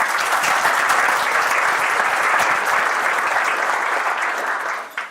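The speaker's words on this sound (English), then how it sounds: "So now, if you can give everybody a round of applause." An audience at a military commissioning ceremony gives a steady, full round of applause that holds for several seconds before tapering at the end.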